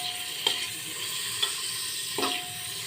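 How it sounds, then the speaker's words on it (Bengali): About 150 grams of chicken breast frying in ghee, a steady close sizzle with a few sharp spatula scrapes or taps against the pan. "এবারে হালকা একটু ভাজা ভাজা করে নেব।"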